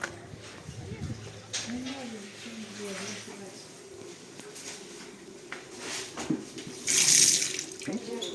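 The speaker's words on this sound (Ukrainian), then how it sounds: "Вода відкривається, закривається." Tap water runs at a spring-water pump room in Skhidnytsia, a soft steady flow under speech, then a louder gush near the end as the stream opens up.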